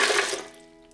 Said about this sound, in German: Dazu kommt jetzt noch eine halbe Tasse Wasser